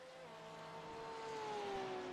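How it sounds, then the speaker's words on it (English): A race car with a boxer engine passes by in a racing video game at Circuit Zolder, its droning tone rising and then sliding lower as it sweeps past, moderately loud and heard alone. "you definitely hear that boxer engine as it goes by"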